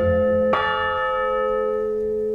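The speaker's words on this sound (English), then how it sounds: "we could play something of a Greensleeves, well, a fragment of the Greensleeves melody on these bells" Six church bells in Cambridge ring out with one sharp bright strike, the tone then hanging and fading slowly with steady overtones, loud and close.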